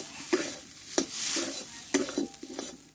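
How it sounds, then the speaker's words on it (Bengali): Mung dal is stir-fried dry in a pan for a kochuri filling, with soft sizzling beneath a few distinct clacks and scrapes of a spatula, fairly quiet and close, without speech. "ডালটা একটু টাইম করে আমি একটু শুকনো শুকনো করে কষে নেব"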